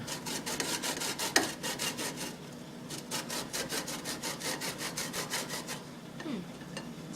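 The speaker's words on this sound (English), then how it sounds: "I'm going to grate this lemon." A lemon is rubbed over a hand grater for zest, making a regular series of scratchy rasping strokes, close and fairly quiet, with no one speaking.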